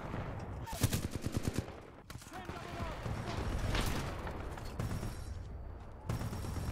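Rifle gunfire in the Titanfall 2 shooter on PC, an M14-style American rifle among friendly snipers: a rapid burst of loud cracking shots, then scattered shots and explosive booms over a busy battle din, with someone talking over it.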